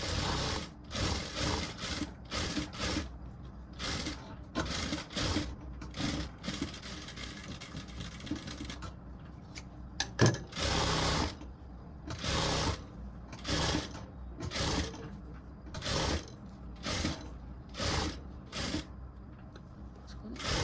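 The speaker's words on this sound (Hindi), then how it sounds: "इसमें भी डबल सिलाई लगा लेंगे।" A sewing machine doing double stitching on a princess-cut blouse, running in repeated short bursts of close, rattling mechanical whirring separated by brief pauses.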